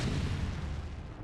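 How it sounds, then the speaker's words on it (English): A missile turret brings down a Protoss Arbiter in StarCraft Remastered, giving a muffled, rumbling explosion that holds at full strength and then slowly fades over about a second, with no voices over it. "It walks into a missile turret, and it's down."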